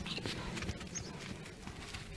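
Soft hoof thuds of a horse walking on ground, irregular and close, with outdoor noise and a voice in the background.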